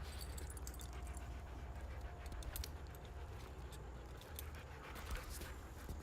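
A husky panting rapidly and steadily close by, with faint jingling and rustling mixed in.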